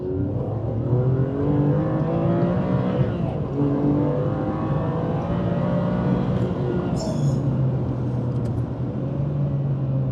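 Ferrari 575M V12 exhaust accelerating hard, a loud continuous engine drone with rising harmonics that swell and shift as the car pulls through the revs, close and steady throughout.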